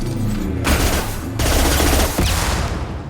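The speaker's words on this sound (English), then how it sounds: "Firing a high impact shot." Dense, loud gunfire from the video game Mass Effect 2, with a sustained rapid barrage of shots and blasts that runs continuously without a break.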